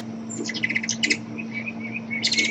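A small bird chirps and tweets in quick bright bursts over a steady low hum, the calls moderately near and fairly faint.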